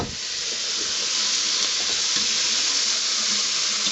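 Salted onions and peppers sautéing in a pan for chicken cacciatore give off a constant, close, fairly loud sizzle with light stirring noises and no talking.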